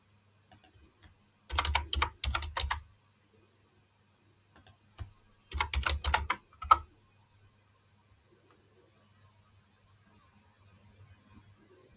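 Two short bursts of rapid key clicks on a computer keyboard, close and crisp, separated by a pause and followed by a few scattered single taps over a faint low hum.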